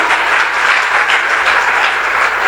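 A church congregation at a Hindi sermon bursts into loud, dense applause, sustained clapping from many hands filling the room without a break.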